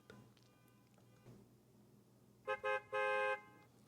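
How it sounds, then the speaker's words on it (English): A car horn outside sounds three quick honks, the last one held longer, loud against a quiet room background with no talking. "I'm really sorry about this car honking in the background."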